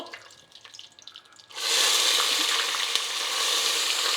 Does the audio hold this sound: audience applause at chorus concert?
no